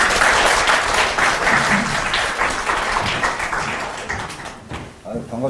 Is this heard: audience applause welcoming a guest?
yes